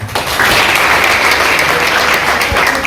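Loud, full audience applause at an official World Environment Day celebration in Isiro, a dense continuous roar of clapping held steady from start to finish, with a low thump near the end.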